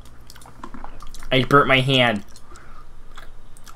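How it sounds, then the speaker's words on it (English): A puppy gnaws and chews on something in soft, irregular clicking, squishy bites, close and fairly quiet, partly under a man's speech. "I can hear the puppy chewing on something"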